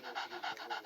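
A dog in the video game Into the Dead 2 pants rapidly and close by, a quick rhythmic run of breathy huffs with no talk.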